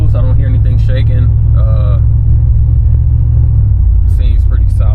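Rumbling engine of an LS-swapped 1994 Chevrolet Caprice Classic while driving, a steady loud low drone throughout, with someone talking over it.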